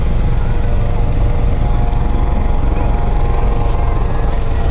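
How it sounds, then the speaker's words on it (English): Loud, steady rotor thrum of a police helicopter in the distance, continuous throughout with a deep pulsing low end. "See the police helicopter in the distance there,"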